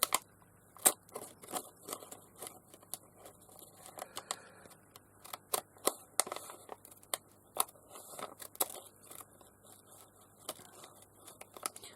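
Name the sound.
scissors trimming glassine bag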